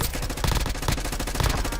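XM4 rifle in Black Ops 6 fires a rapid automatic burst, close and loud, shots evenly spaced in a fast steady rhythm for the full couple of seconds.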